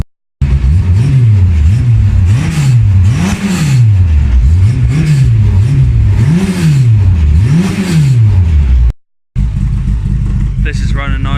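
A car engine runs steadily and revs up and down again and again in loud, rhythmic swells close by, with the engine still out in the yard; it cuts off briefly near the end before restarting.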